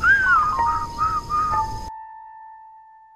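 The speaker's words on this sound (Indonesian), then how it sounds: "mereka pun bersiul bersama untuk menghibur burung-burung peliharanya itu" Whistling in a melodic rising and falling pattern of several short phrases, fairly close, that cuts off abruptly and leaves a thin steady tone behind.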